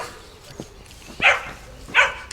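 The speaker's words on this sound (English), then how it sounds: "I had a dog bark, but I can't see it." Two short dog barks, a moderately distant one then another about a second later, over quiet outdoor ambience at a historic great hall.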